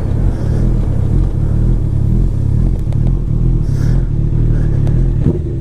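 A motorcycle idles and revs loudly close by, with a Yoshimura R77 exhaust fitted and its baffle removed. The engine holds a steady, deep roar and gives a few short throttle blips.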